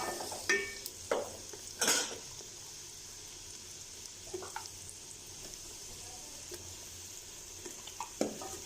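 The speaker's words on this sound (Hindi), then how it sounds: "अब इसको मैं अच्छे से प्याज के साथ लाइट ब्राउन होने तक छोड़ दूंगी।" Onions frying in a pan with turmeric and other dry spices for karhi pakora, a soft continuous sizzle with a few scattered scrapes and stirring clinks, heard alone.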